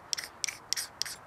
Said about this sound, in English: this striker, if you get the angle right and you push down, you get some lovely shavings off of it